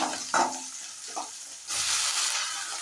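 Mustard seeds, curry leaves and chopped onion sauté in hot oil for a cabbage stir-fry, giving a close sizzling hiss with a couple of brief stirring scrapes, then a louder surge of frying that holds to the end.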